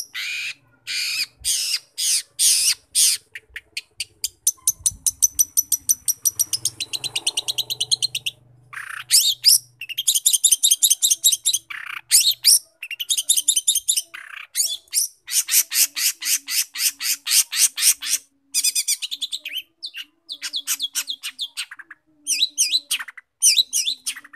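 Pentet (cendet) shrikes in a collection of caged birds of various types and ages give loud, close, harsh chirps and rattling calls in rapid bursts, with short pauses between phrases and no talking.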